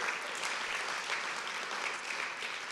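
An audience at a spring celebration event claps in steady, dense applause, a continuous close wash of many hands with no pauses and no voices.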